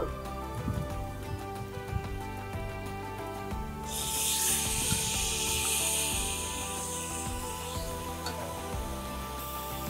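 Ground spices and chicken are sautéed in a Saladmaster pan for Lebaran opor ayam, with light stirring clicks and taps at first, then a bright sizzle that swells midway and holds for several seconds before easing off.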